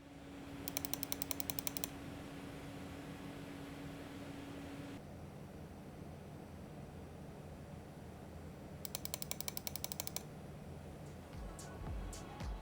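Fans in an NCase M1 small-form-factor PC build running at full load, giving a steady broadband whoosh with faint intermittent clicking bursts throughout, no voices.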